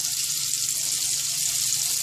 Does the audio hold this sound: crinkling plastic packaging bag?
no